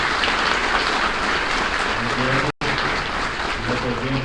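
Loud, dense applause from a conference audience fills the whole stretch, steady and continuous with a brief cut partway through.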